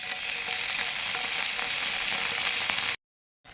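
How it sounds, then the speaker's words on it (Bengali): Chopped garlic and tomato sauce hit hot oil for chicken satay, giving a loud, steady sizzle that stops abruptly near the end, with a faint return just after. "এবার আমি তেলে রসুন কুচি দিয়ে দেব এবার দিয়ে দেবো টমেটো সস"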